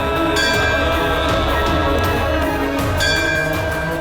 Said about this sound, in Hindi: फिर ये घंटी कैसे बज रही है अपने आप ही?